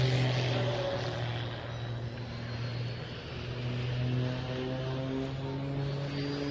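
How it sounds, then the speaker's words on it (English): An aerobatic propeller plane flies a knife edge pass at the Bournemouth Air Festival, its engine a steady, moderately distant droning hum that holds fairly even and swells slightly near the end. "is this one of Richard's famous knife edge passes coming up?"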